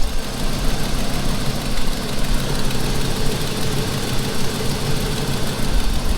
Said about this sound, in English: the motor is running great